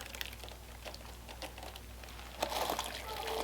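Thick plaster mix is poured slowly into a foot cast mold, giving soft wet slops and splatters amid faint crinkling, growing louder toward the end.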